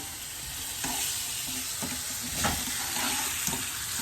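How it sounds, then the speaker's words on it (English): Balsamic vinegar hits a hot pan while cooking pork tenderloin, raising a steady, loud hiss of sizzling with a few scraping stirs throughout, no voices. "now we're going to put some balsamic in there"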